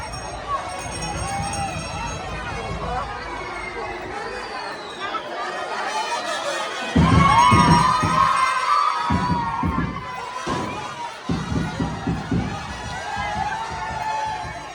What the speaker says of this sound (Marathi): गर्दी एवढी आहे की बँड थांबते